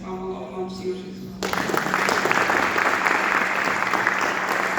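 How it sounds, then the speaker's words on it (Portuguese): A church congregation at a missions service breaks into loud, sustained applause that starts abruptly after a short stretch of quiet room tone and then continues steadily in a dense wash of clapping. "as palmas ao nome do Senhor Jesus"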